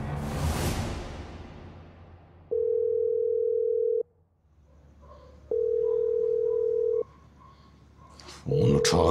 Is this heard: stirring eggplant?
no